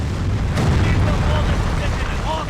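Explosions boom in a Civil War video game, set in 1861, with a heavy blast rolling under battlefield noise and shouted voices.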